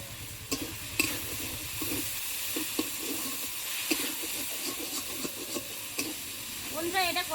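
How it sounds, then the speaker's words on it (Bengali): Potatoes frying with turmeric and chilli powder while being stirred in a pan, a soft sizzle with repeated scraping strokes of a spoon, close but fairly quiet, with no talking. "এবার দিয়ে দেবো আমি লঙ্কা গুঁড়ো,"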